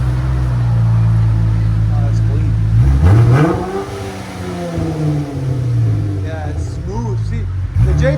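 A 2019 Dodge Challenger SXT with a 3.6L V6 and glass-pack exhaust idles with a deep drone, then revs up and settles back, close and loud, while people talk over it.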